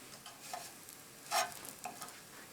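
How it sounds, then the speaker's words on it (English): Crab cakes are turned in a pan of sizzling butter. A quiet, steady sizzle runs throughout, with one short scraping shuffle near the middle and a few faint clicks. "turn them in the pan to coat the bottom in the butter"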